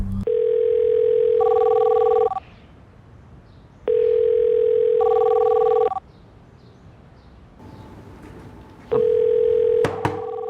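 A telephone rings in repeated long electronic tones, three bursts separated by pauses, loud and close with faint background noise between.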